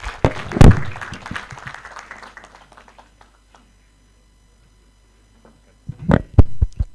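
An audience at a World Savings Day event applauds the Deputy Governor, loud clapping at first that thins out and fades to near silence, then a few sharp, close claps and a brief burst resume at the end.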